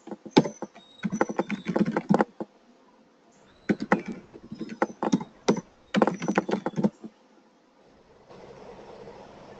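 Fingers type on a computer keyboard in quick bursts of close clicking keystrokes, broken by short pauses, with a brief hum of background noise at the end.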